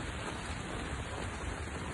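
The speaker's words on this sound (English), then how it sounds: "it's raining so bad that it's over" Heavy, nonstop rain in Bangladesh pours down as a dense, loud, even roar of water, close and unbroken, with no voices over it.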